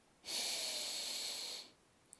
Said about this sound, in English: Dipsy sees a beautiful sunflower and sniffs it.